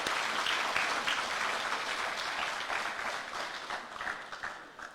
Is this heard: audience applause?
yes